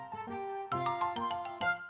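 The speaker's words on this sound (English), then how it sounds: "Just then the doorbell rang." A doorbell rings in a classic animated children's show, a bright chiming ding-dong of several tinkling, bell-like tones struck in quick succession, clear and alone against a quiet background.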